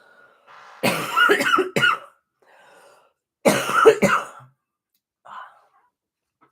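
Two harsh bouts of coughing close up, each a cluster of rough bursts, separated by quiet, with a faint throat sound near the end.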